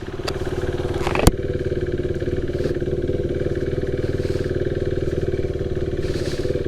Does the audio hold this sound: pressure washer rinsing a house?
no